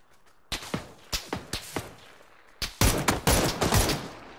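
Gunfire in a video game: spaced single shots first, then a denser, louder volley of rapid cracks near the end, close and punchy, with no talk.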